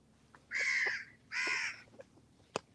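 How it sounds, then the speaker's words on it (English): Crows on Thinadhoo island call at sunrise with two loud, drawn-out caws in quick succession, followed by a few faint clicks and a sharp short note in a quiet outdoor setting. "You hear the crows"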